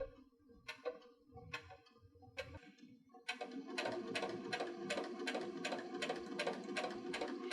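A sewing machine stitches fabric for a DIY makeup brush kit, starting with a few slow, separate clicks and then settling into a fast, even run of close mechanical ticks with a whirring hum beneath.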